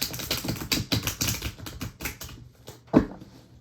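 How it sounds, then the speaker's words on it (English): A deck of tarot cards being shuffled by hand, giving a run of dense riffling, tapping bursts that fade out midway, followed by one sharp slap near the end. "I keep shuffling this deck"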